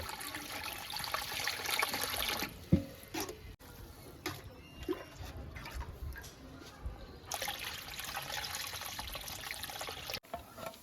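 Water pours and trickles into a pot being filled up to the bottom of the lid for steaming, a moderate, continuous flow with brief pauses and faint handling clatter.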